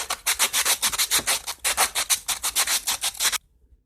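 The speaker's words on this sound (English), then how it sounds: "A little bit of sandpaper." Sandpaper rubbing back and forth on the spark plug of a Husqvarna 50, 51 or 55 chainsaw, a quick close run of about twenty rhythmic scratchy strokes that stop abruptly, with no talking.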